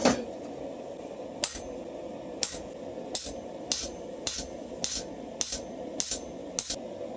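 Repeated sharp metallic hammer blows punching through hot steel at a forge ring out at a steady rhythm, roughly one every half second, close and fairly loud over a low hum.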